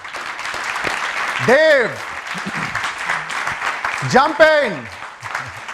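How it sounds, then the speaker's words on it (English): Audience applause at a business event with a book launch, steady clapping running under someone speaking over a microphone, with his voice swelling over the clapping twice. "Give him a big round of applause, please."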